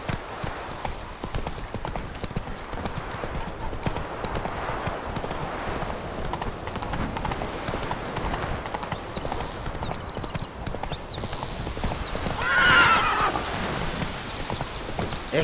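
Roach, a horse in the Witcher 3: Wild Hunt video game, gallops with a steady, continuous clip-clop of hooves throughout, and a short neigh rises near the end over faint game ambience.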